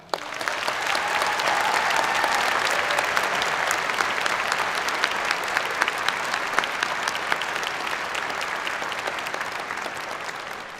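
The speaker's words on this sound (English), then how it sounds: "Please join me now in a round of applause acknowledging them." An audience at a fall university convocation ceremony gives a sustained round of applause for the stage party, a dense, even wash of clapping that holds steady for several seconds.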